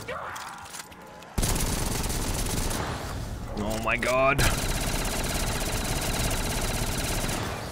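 Light machine guns fire in a chaotic modded COD Zombies match: loud, sustained automatic bursts that roll on nearly without pause, while a player briefly exclaims over the gunfire.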